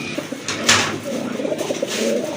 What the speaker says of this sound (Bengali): আরেক জোড়া কবুতর দেখতে পাচ্ছেন, ব্ল্যাক গোল্ড আর্চেঞ্জেল কবুতর।